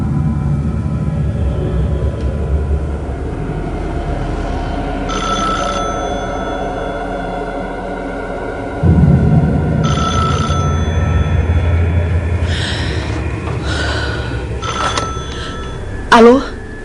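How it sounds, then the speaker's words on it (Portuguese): A telephone bell rings in several separate bursts inside a house, mixed with low rumble and dramatic background sound as a narrator talks over it. "Bunny recebe uma ligação de Lorraine Warren."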